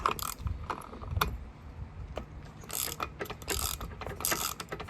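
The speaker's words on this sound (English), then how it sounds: "Then you want to use a 5/16 wrench socket." A 5/16 socket wrench ratchets on a Mercury outboard lower unit in close, quiet bursts of rapid clicking, several short runs separated by brief pauses, with no speech.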